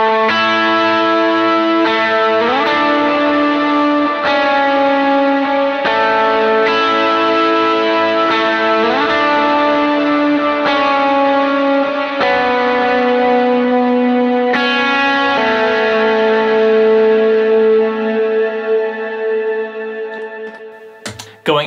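Electric guitar playing a lower-octave melody with chorus, delay, reverb and drive, giving sustained, shimmering notes that glide between pitches. It is loud and alone, with a long wet tail that fades at the end.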